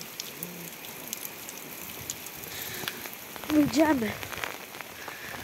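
Heavy rain falls outdoors as a steady, soft hiss that runs through the whole stretch, with a brief spoken word and a few faint higher sounds near the middle.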